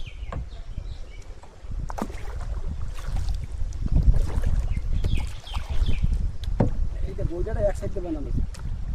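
Rowing boat on a lake beside a rural resort: irregular oar splashes and hull knocks over wind buffeting the microphone, with voices murmuring nearby.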